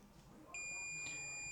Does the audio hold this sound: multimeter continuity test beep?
yes